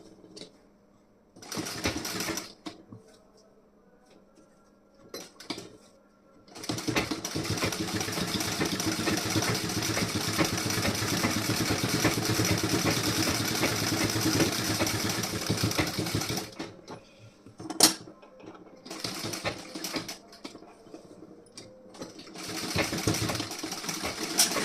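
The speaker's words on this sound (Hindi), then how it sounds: "यहाँ पे मैं एक सिलाई और लगा दे रही हूँ। यहाँ पे आपको डबल सिलाई लगानी है।" A sewing machine double-stitches the front part of a blouse in short bursts, then runs for a long continuous stretch of fast, steady whirring, with brief pauses and stops between runs and no talking.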